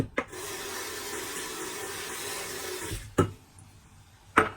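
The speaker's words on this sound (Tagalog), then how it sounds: "Hugasan ko na yung ating lentils" Lentils rinsed under a running tap in a kitchen sink, a steady close rush of water for about three seconds, then two brief clunks of the pot after the flow stops.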